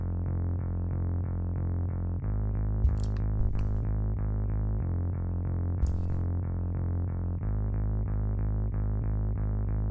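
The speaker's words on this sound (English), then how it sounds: "I put a fruity fast distortion on it, make it sound more grungy" A gritty synth bass run through a Fruity Fast Distortion plugin plays a repeating rhythmic pattern, buzzy and heavy, with a few faint percussive hits on top, in a shoegaze song.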